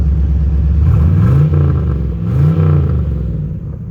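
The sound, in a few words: muscle car engine revving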